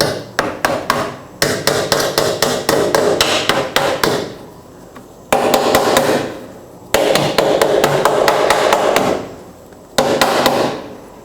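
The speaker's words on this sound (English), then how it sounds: "I'm using a small brass hammer." A small brass hammer taps metal tabs on a 1997-2003 Ford F-150 fuel tank shield in loud, rapid bursts of sharp ringing strikes, pausing briefly between each series.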